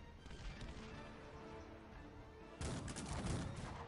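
Howitzers fire in the strategy game Cossacks 3. A low, muffled background of distant battle builds into a loud burst of overlapping booms and crackling gunfire partway through.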